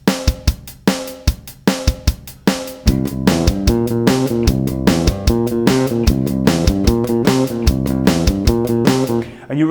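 A drum beat plays at a steady tempo, with the bass drum landing on the offbeat just before beat three, joined partway through by a pitched bass line that keeps the rhythm going to the end.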